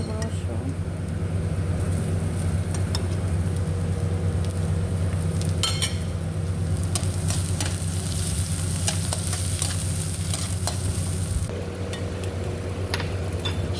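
Garlic sizzles steadily in a hot pan alongside a constant low hum, with occasional metal scrapes and taps from stirring and faint background voices.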